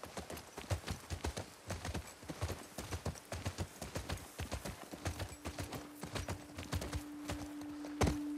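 Horse hooves clip-clop in The Last of Us 2 video game, a steady walking rhythm of close, crisp hoofbeats on hard ground, with a brief faint whinny near the end.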